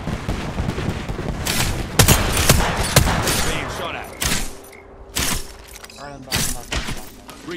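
Rapid gunfire in Apex Legends: loud bursts of automatic shots and sharp single cracks with thuds, broken by brief pauses, while a voice speaks between volleys.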